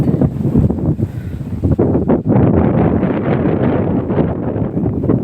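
Strong sea wind at Dingalan, Aurora, roars steadily against the microphone, a loud continuous rushing with low buffeting gusts and no voices.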